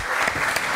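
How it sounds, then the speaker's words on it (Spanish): Brief burst of audience applause for a guest at a cultural talk event in Punta Arenas, a dense steady patter of many hands lasting under a second. "Un aplauso para Vanessa, por favor"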